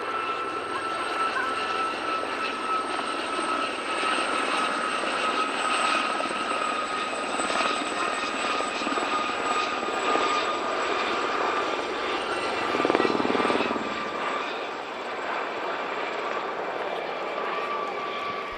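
French-designed Gazelle helicopter flying at the Midlands Air Festival airshow, a loud continuous rotor and turbine drone with a steady whine, swelling slightly near the end as it passes.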